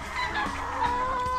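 Chickens on a chicken farm cluck and squawk continuously in a dense, busy chorus, with a few louder calls rising above the steady flock noise.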